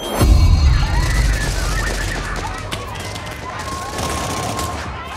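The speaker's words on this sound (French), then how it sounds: "on n'entend plus que des cris et des coups de feu" Rapid bursts of gunfire crackle amid a loud, noisy din of shouting crowds during protests in Daraa, Syria, with a heavy low rumble at the start.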